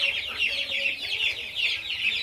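Young broiler and other chicks chirp together in a poultry shed, a dense, continuous chorus of high, rapid peeping, fairly close and steady throughout.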